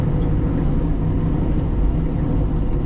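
Steady low engine rumble from a 1967 Ford F250 crew cab truck with a 6.7 swap, driving at an even pace, loud and close, with no talk.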